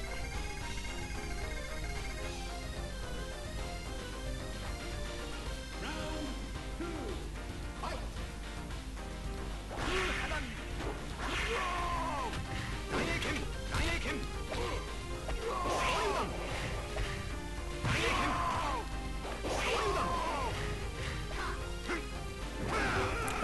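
Fireball attack and fight hits in Neo Geo Fatal Fury 2, sharp impact bursts and swooshes punctuating busy background game music, repeated several times in the latter half.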